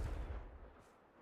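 A Confringo spell blast from a wizarding video game, played on Ultra settings, erupts as a single booming burst. Its deep rumble decays over about a second with no talk.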